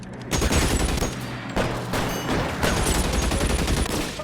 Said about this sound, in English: Shoot the guy in the head, Cole.